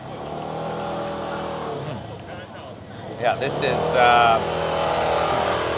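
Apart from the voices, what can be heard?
scooters driving by on a Taiwan street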